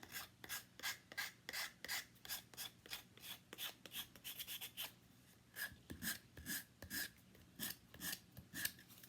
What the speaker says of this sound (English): So the more you sand these, the more rustic they get